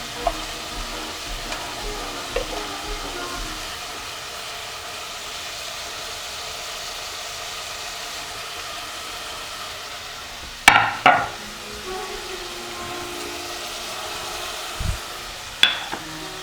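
Tomatoes frying in a pan with chicken hearts and livers give a soft, steady sizzle. A few sharp clatters of utensil on pan break in near the middle and again at the end.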